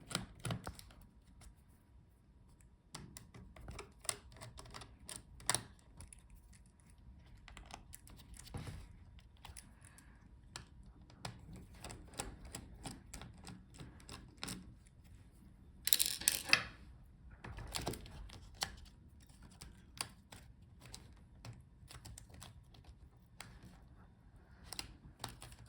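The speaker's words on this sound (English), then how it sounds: "Now we have only screws left. So let's start unscrewing the motherboard." Small screws are worked loose from the motherboard of an MSI Creator 15 laptop, giving quiet, irregular tiny clicks and ticks of a screwdriver against metal, close up with no talking.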